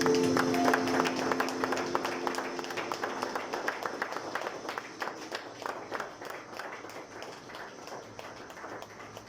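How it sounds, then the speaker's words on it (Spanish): A church congregation applauding in gratitude during a worship service, many hands clapping in a strong rhythmic patter that gradually fades and thins toward the end, with a brief voice early on. "dale un aplauso fuerte de gratitud al Señor"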